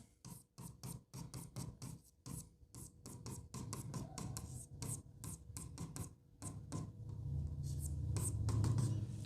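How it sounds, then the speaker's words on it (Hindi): Pen scratching out handwriting on paper during a Class 12 maths lesson, rapid irregular strokes with short pauses, close and quiet, while someone talks softly at times. "यहां पर भी लिखता हूं"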